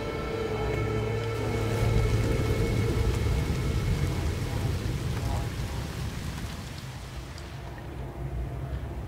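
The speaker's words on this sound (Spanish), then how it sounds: "¿Va a pasar la tormenta?" A rainstorm in No Man's Sky gives a heavy, continuous hiss of rain with a low rumble of thunder, steady throughout and easing slightly toward the end.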